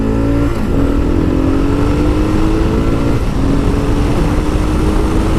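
A 2015 Kawasaki KLR 650 motorcycle accelerates hard, its single-cylinder engine rising in pitch through two gear shifts, loud and close over steady wind and road rush.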